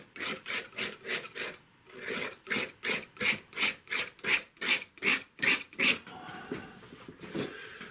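A scraper drags across a paint-covered wooden board in about a dozen steady, rhythmic rasping strokes, close and fairly loud, each separated by a brief pause, followed by a softer trailing scrape.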